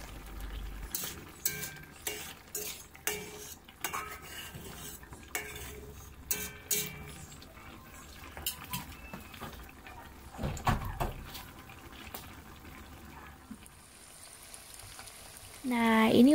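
Chopped green chilies and squid stir-fried in oil, heard as intermittent scraping and clinking of a utensil against the pan over faint sizzling, with a brief louder clatter near the end.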